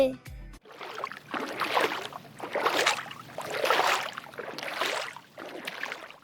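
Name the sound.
boat being rowed on a river in a cartoon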